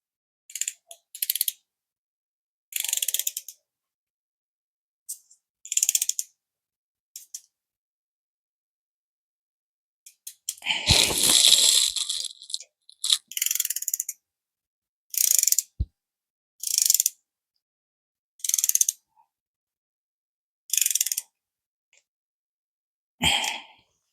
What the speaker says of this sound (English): now we're going to go ahead and torque these down to 89 inch-pounds